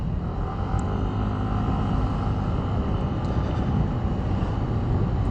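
A Yamaha Mio Gravis version 2 scooter engine drones steadily while riding, mixed with heavy wind rush and road noise at constant volume, with no talk.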